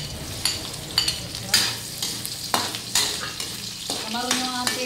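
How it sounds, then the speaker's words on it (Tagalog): Shrimp sauté in a pan with browned onion and garlic, giving a steady sizzle broken by repeated scraping stir strokes of a utensil and light clinks against the pan, close and without talk. "Dahil mapula na yung sibuyas at bawang, ilagay na natin itong ating kamaron."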